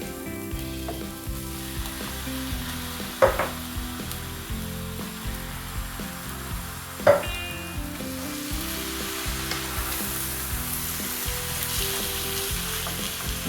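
Tomatoes and stock heat in a pot for lasagne soup with a steady, busy sizzle and bubbling, broken by two sharp clinks a few seconds apart. No one speaks.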